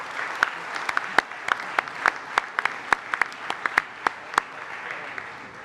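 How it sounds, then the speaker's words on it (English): Applause from an audience at the opening ceremony of the new Bay Bridge East Span, with sharp scattered claps standing out over a steady, moderately loud wash of clapping. "And so we have to give our toll payers a round of applause"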